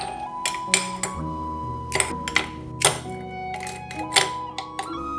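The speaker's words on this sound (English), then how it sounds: "Put round ice to the serving cup." Round ice is dropped into a serving cup, giving several sharp clinks and knocks at irregular intervals over gentle background music.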